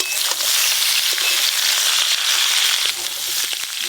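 Moringa drumstick stalks, cut and washed, go into hot oil in a pan after lightly fried ingredients, making a loud, steady, close sizzle and crackle with no talking.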